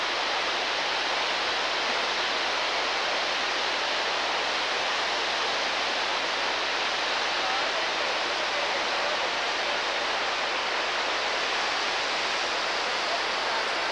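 A spectacular waterfall beside a small hillside cabin in Colorado, a loud, steady broadband roar of rushing water filling the whole stretch without a break.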